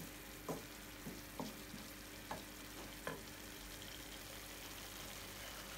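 Vegetables frying in tomato sauce in a pan, a faint continuous sizzle broken by a string of soft, evenly spaced stirring taps, close with no talk.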